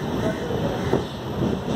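Yesvantpur Howrah Duronto express train running through Kharagpur Junction at about 80 km/h, a steady low rumble and rolling wheel noise with a faint rhythmic clatter, close and continuous.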